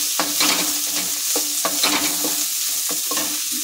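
Mint, coriander and curry leaves frying lightly in a pan for a potato bread sandwich filling, a close sizzle broken by rhythmic scraping stirs of a spoon against the pan.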